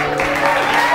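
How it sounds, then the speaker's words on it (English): Wedding guests applaud the newlyweds at a reception at the Popponessett Inn in Mashpee, Cape Cod, a steady, dense wash of clapping filling the whole second with no gaps. "continue that applause for your newlyweds, the new Mr. and Mrs. Bonfilio, Paul and Kel"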